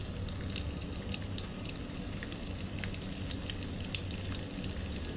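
Chopped onion sizzles steadily in hot oil in a pan for a spinach-and-potato chorchori, a dense continuous crackle with fine pops throughout and no talk.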